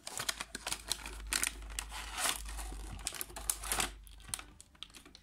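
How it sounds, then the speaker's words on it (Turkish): Cardboard box packaging of an XS IFT002B budget contactless thermometer being opened, with steady close-up crinkling, tearing and tapping of card and paper in a rapid irregular series, no voices. "Şimdi ürünü şu şekilde açalım."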